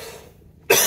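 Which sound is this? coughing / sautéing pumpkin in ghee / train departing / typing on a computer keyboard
coughing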